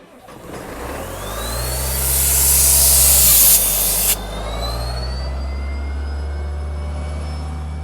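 Sandblasting a gravestone, fed by a diesel pull-behind air compressor with a John Deere motor rated at 180 CFM: the engine drones low throughout while a loud blasting hiss builds, then cuts off sharply.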